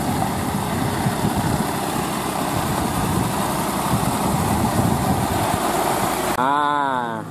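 A farm tractor engine idles nearby, a constant rough rumble with no speech, ending with a brief wavering tonal sound over the quieter engine.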